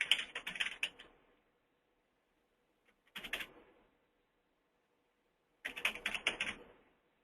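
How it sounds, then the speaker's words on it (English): Three separate bursts of rapid typing on a computer keyboard, each about a second long and entering an address, with silent pauses between, close and moderately quiet. "I'm going to type in the address, your location's address is what you would type in."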